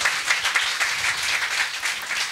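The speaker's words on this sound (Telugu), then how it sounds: "గెలిచిన వారిని బట్టి మనందరం చప్పట్లు కొడుతూ దేవుని మహిమపడదాం." An audience claps for the winners at a church event, broadband patter running steadily through the whole stretch at moderate loudness with no voices over it.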